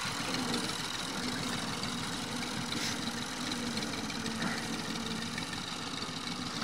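A tractor hitched to a trolley idles with a low, steady engine rumble, heard fairly faintly at a distance throughout, without speech.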